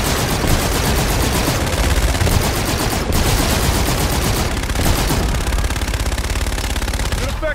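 Sustained aircraft gun run in the video game Call of Duty: Infinite Warfare, a dense, loud, unbroken roar of rapid-fire cannon rounds lasting several seconds, with a brief dip midway before the barrage resumes.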